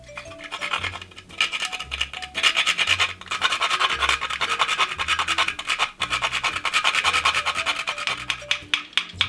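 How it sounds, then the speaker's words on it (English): Nutmeg grated by hand for Trinidadian banana bread, a steady run of dry rasping scrapes with brief pauses between strokes, close and fairly loud, with low background noise and no talk. "Then we're going to grate in some nutmeg."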